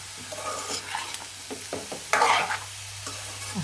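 A ridge gourd curry made from homegrown country ridge gourds sizzles in a pan as it is stirred. Close scraping strokes of the spoon break up a constant fizzing sizzle, with one louder hiss burst midway. No one speaks.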